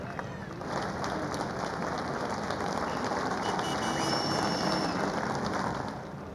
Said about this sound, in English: Do give them a round of applause and a wave.